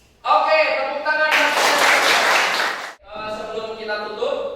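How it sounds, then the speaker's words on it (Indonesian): A classroom bursts into brief applause, loud and dense clapping for under two seconds, framed by a voice talking before and after. "Oke, tepuk tangan."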